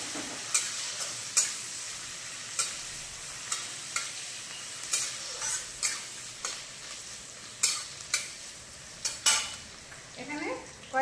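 Chopped onions sizzling in a pan while a spatula scrapes and taps the metal in repeated strokes, the stirring knocks standing out clearly above a soft, continuous fry.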